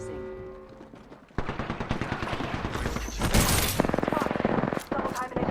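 Loud, rapid automatic gunfire fills an Apex Legends battle, with sustained bursts and overlapping shots under game effects, while a voice speaks over part of it.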